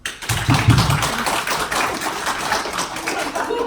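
An audience at a business seminar claps, a moderate scattering of individual claps and taps in an indoor room, fairly close, with some voice briefly heard early on.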